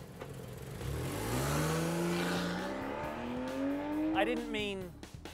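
2013 Porsche 911 Carrera 4S engine running close by, rising through revs in a long climbing pull before backing off and shifting, loud and continuous, with a person talking over it.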